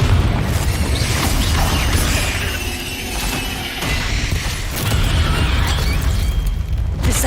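A Confringo spell explodes in the Hogwarts Legacy video game, part of a dense, loud run of booming blasts and crackling bursts over a constant roar of battle, with no talk.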